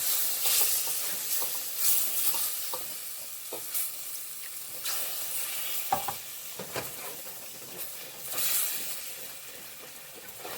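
Evaporated milk being added bit by bit to a hot sauce in a pan for Haitian macaroni au gratin, a steady loud sizzle and hiss with scraping stirring strokes throughout.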